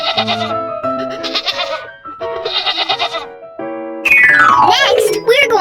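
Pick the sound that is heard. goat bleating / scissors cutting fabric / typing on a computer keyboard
goat bleating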